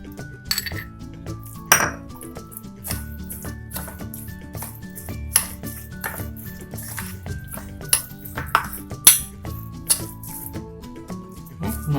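Rava batter mixed with curd in a bowl, a spoon clinking and scraping against the sides in irregular close strokes, over quiet background music.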